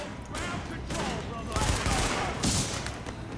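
Rapid automatic gunfire rattles in Tom Clancy's The Division on PS4, a few loud bursts in quick succession with a sharp crack near the end, while a voice talks over it.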